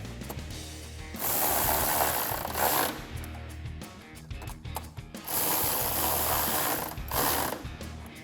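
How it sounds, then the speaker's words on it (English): A ratchet with an 8mm socket tightens grille bolts on a 2021-2022 Ford F-150, giving rapid, steady clicking in two sustained runs close to the mic, with brief pauses between them. "And then we'll take our 8mm socket to tighten these down."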